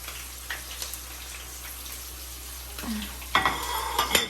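Chopped green chili and garlic fry in a pan for a Kerala-style fish curry, giving a soft, close sizzle that swells louder near the end, with a brief clatter of stirring and no talk.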